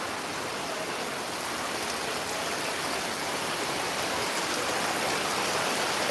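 Steady rain pours over an open-air cattle market at Gabtoli, a dense even hiss of water that stays constant and fairly loud throughout, with no voices.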